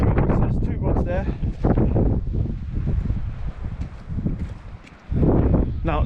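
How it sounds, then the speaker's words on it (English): Strong wind buffets the microphone on a beach at Amlwch, Anglesey, during shore fishing, a loud steady roar with gusty surges throughout and someone talking over it. "the only thing I'm having trouble with is the wind"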